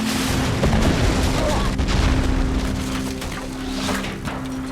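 A spaceship explodes after crashing into a warehouse in a science-fiction film, heard as a sustained, loud rumbling blast with crackling, splintering debris and a low hum throughout, plus some faint talk.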